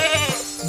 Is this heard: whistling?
no